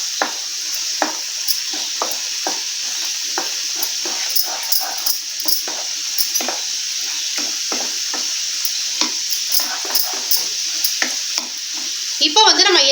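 Ground spices such as chilli powder, garam masala and turmeric frying in hot oil, with a steady close sizzle and repeated scraping stirs of a spoon against the pan throughout, ending in a brief burst of louder clatter.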